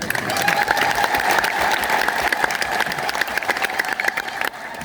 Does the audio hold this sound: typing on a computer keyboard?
no